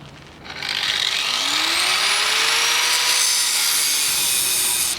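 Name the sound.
angle grinder cutting hollow concrete block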